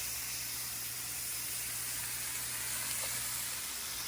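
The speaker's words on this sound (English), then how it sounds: "I'm going to cook the shrimp for about 6 minutes." Shrimp cook in a hot pan with a continuous bright sizzle and hiss, steady and close, with no talking over it.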